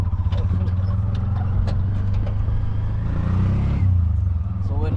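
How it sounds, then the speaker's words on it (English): A tuk-tuk in Mombasa drives along with a steady engine drone and road rumble, close by, while people talk over it. "let's use tuk-tuk now"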